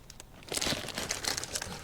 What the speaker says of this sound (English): the paper sounds more crunchy